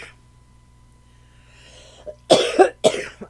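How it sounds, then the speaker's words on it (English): A person coughs in a quiet room: after a near-silent start, a few sharp, loud coughs come close together near the end. "I didn't start coughing until I started doing this reading."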